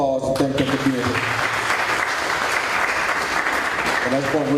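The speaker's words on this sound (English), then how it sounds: "please give them another round of applause and thank them for being here" Audience applause at a live community event on mental health, a steady wash of clapping across the room at moderate loudness, with voices talking over it at the start and end.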